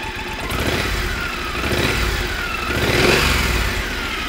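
A 2014 Triumph Thunderbird LT motorcycle fitted with off-road silencers runs close by with a deep, throaty, steady engine note that swells in a brief rev near the end.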